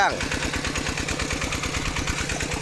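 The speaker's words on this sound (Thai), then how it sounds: "เร่งเครื่องขนาดนี้กำลังพอดี" A small walk-behind tractor engine chugging steadily at moderate revs in a farm field, loud and close, with a rapid even thumping rhythm throughout.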